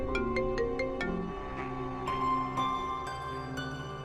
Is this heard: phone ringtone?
yes